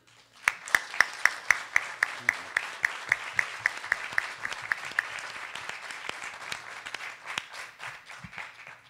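Audience at a gender equity lecture event applauds to welcome the panel, starting with sharp rhythmic unison claps that loosen into steady, moderately loud clapping before fading.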